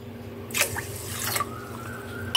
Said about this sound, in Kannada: ಎರಡು ಲೋಟ ನೀರು ಹಾಕೋಣ.